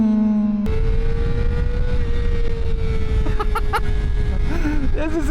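A Kawasaki ZX-4RR sport motorcycle engine screaming at over 10,000 RPM in first and second gear, a loud sustained high-pitched whine with rising and falling revs under wind rush, while a rider's voice comes through near the end.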